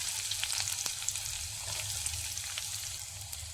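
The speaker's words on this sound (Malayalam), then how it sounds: "അതിലേക്ക് 1 സ്പൂൺ കടുക് ഇട്ട് കൊടുക്കാം. കടുകെല്ലാം പൊട്ടിക്കഴിയുമ്പോൾ" Mustard seeds splutter and pop in hot coconut oil in a pan, a steady sizzle scattered with small sharp crackles, close and alone.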